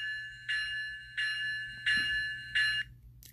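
A model Union Pacific Heritage 8444 locomotive's bell from an ESU LokSound decoder, four evenly spaced electronic ringing tones with brief gaps between them, clear and close.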